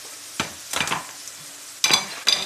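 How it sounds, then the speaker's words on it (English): Sliced potato chips frying in hot oil at home, with soft sizzling punctuated by several sharp stirring scrapes and clinks spaced across a few seconds. "Pagluto ng potato chip, easy cooking potato chip."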